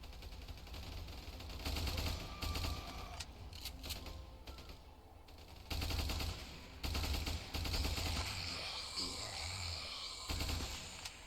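Crisp, rattling gunfire from a large Ultimate Epic Battle Sim battle, with dense automatic volleys surging and easing in repeated waves over several seconds, no talk.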